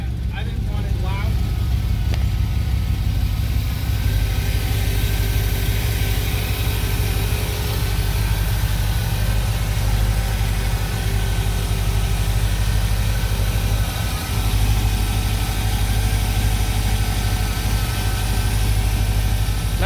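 A 1956 Chevrolet Nomad resto-mod with a 327 V8 on double-hump heads idles steadily with a lumpy, loping rumble, moderately loud and constant, while people talk over it.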